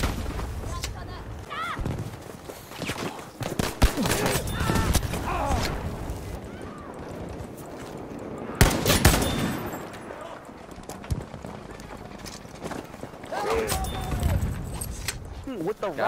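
M4 rifle gunfire in a first-person shooter game, loud bursts with sharp blasts near the 2-, 4- and 9-second marks, mixed with game noise while people talk over it.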